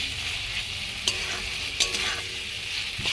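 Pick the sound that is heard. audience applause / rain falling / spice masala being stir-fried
spice masala being stir-fried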